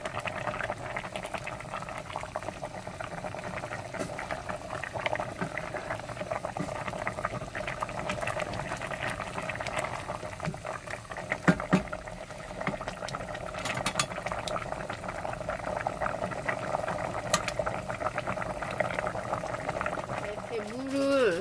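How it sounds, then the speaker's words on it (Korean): Chicken stew bubbles and simmers continuously in a stainless steel pot, a dense wet gurgling with small clinks and scrapes now and then, steady and close throughout. "스텐 냄비에다 끓이고 있고요."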